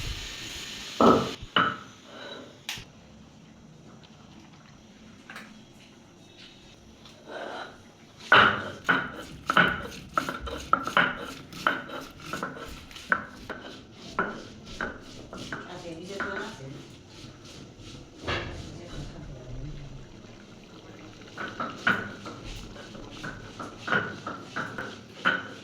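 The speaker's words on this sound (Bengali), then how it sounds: "এবার মা ডাল বেটে নেবে পাটায়।" Lentils are ground on a flat stone slab, a pata, in a home kitchen: irregular knocking and scraping strokes of stone on stone, close by, with a voice speaking over the work at intervals.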